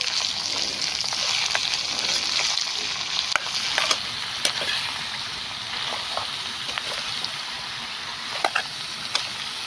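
Brinjal curry made with farm-fresh eggplant sizzles and fries steadily in a pan, with scraping stirs and clinks of the spoon cutting through the hiss from start to finish.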